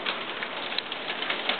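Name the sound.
hail falling outside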